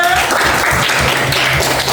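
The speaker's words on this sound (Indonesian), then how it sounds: "Tepuk tangan buat temennya" Classroom applause for a student who answered a question, a short burst of clapping from a group of pupils with some murmuring underneath.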